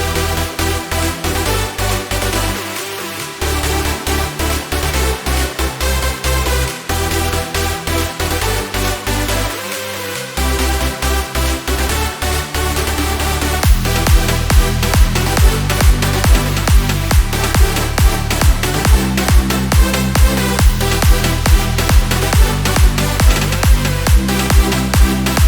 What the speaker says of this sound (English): So then with the super saw and all together, it sounds like this.